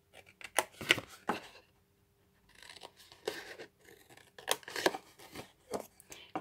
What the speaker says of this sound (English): We are going to cut completely away these and this corner here.